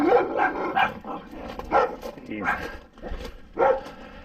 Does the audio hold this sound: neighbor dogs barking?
yes